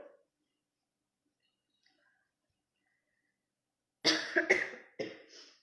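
A person with a cold coughs several times in a row, close and loud, after a few seconds of near silence.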